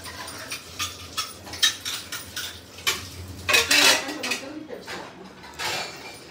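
Metal utensils and pots are washed and handled in a home kitchen, clattering and clinking in irregular bursts, with faint voices in the background.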